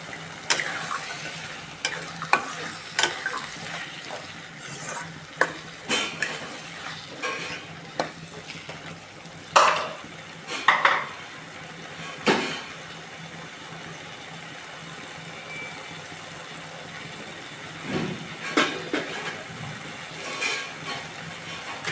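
A ladle stirs a green peas curry frying in a pan, giving irregular scraping and clattering strokes over a soft continuous sizzle, with no talking.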